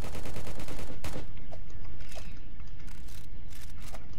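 Sniper gunfire in a video game, with several sharp cracks spaced over a continuous noisy background, the first shots loudest and later ones slightly softer.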